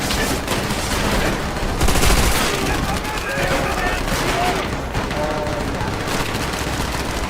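Rapid gunfire from the World War II shooter game Call of Duty: World at War, played in co-op, rattles on steadily throughout over a dense game soundscape with loud bursts and booms.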